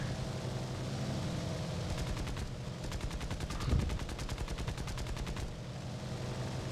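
Rapid gunfire from bombers in the War Thunder air-combat game, a dense crackling burst over a steady engine drone, loudest midway and fading toward the end.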